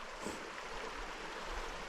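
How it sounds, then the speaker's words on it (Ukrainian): Steady broadband rush of a mountain river, the Slavka, flowing in a constant even wash, heard alone at moderate distance. "тут протікає річка Славська, Славка"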